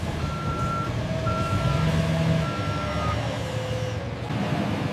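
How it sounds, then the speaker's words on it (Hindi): Repeated tonal reversing beeps from a forklift carrying sugar sacks to trucks at a sugar factory, sounding steadily over a continuous engine rumble and yard noise, with no speech. "ऑर्डर मिलने पर फोर्कलिफ्ट इन्हें ट्रकों तक पहुंचाती है।"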